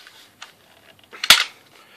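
The spring-loaded bolt of a toy Wild West electronic repeater rifle snaps open and ejects a shell, making one sharp, close click after a faint lighter tick.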